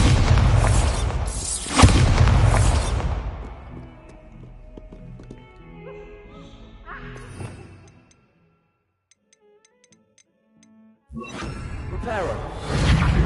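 A Bombarda explosion spell goes off in Hogwarts Legacy, with loud booming blasts and whooshing debris at the start, a rumbling lull, near silence, then another loud burst of blast noise at the end.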